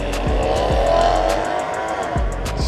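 Maserati car pulling out on a street during a drifting meet, a loud engine roar with rising revs and a tire squeal, with repeated thumping pulses beneath it.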